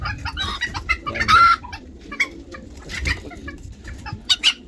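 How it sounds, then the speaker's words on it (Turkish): Several chickens, including Malaysian Serama, Ispenç and Habeş breeds, cluck and squawk close by, with short rooster crowing calls rising over a busy, noisy barnyard din. "En yakışıklı horozlar burada duruyor."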